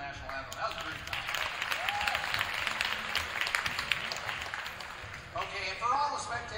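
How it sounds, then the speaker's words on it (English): A crowd applauds in a school gym at a wrestling dual meet after the national anthem, a steady wash of clapping mixed with scattered cheers and overlapping voices. "let's give another round of applause for that beautiful national anthem"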